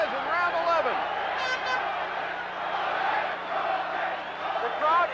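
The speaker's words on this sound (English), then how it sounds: "The crowd is yelling for Gomez, trying to exhort him on" Boxing arena crowd yelling and roaring for Wilfredo Gomez during a 1984 title bout against Azumah Nelson, a dense sustained wall of shouting voices with swells of cheering throughout.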